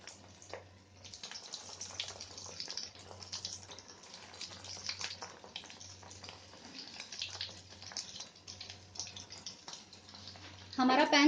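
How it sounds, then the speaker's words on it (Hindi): Chicken cheese nuggets fry in a small pan over low flame with a steady soft sizzle and crackle, and a low hum pulsing underneath, with a louder burst at the end. "अब इसको हम लोग इसको फ्राई कर लेते हैं"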